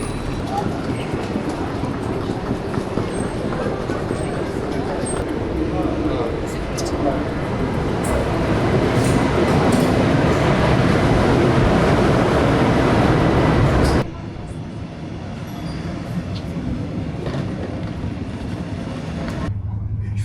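Dense, echoing crowd noise of a busy station hall, constant chatter and footsteps with rumbling rail sounds, dropping to a quieter murmur near the end.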